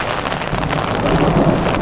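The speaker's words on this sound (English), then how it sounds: "It is raining pretty hard today" Heavy rain comes down in Tokyo as a dense, loud, steady hiss of drops hitting surfaces, close by and continuous, with no voices over it.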